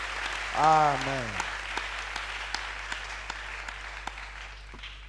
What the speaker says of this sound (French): Nous acclamons pour tout cela.